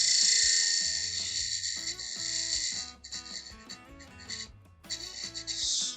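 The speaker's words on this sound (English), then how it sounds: "I'm going to take my parting tool and hold it on an angle towards the piece here." A parting tool, held at an angle, cuts a slight chamfer into a wooden spice pot turning on a wood lathe. It makes a harsh, continuous scraping hiss that breaks off briefly twice, over low tonal sounds in the background.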